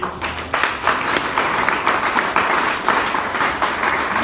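A church congregation claps in praise of God, a dense, steady patter of many hands spread through the room with a few sharper bursts, and no voices over it.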